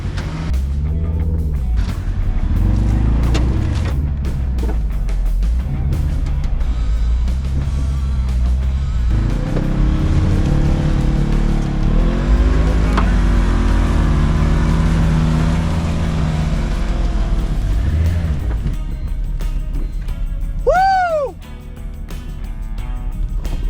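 An old Volvo off-roading over backyard terrain, its engine droning loud and steady, then revving hard up to the rev limiter near the end, with a brief sharp rise and drop in pitch.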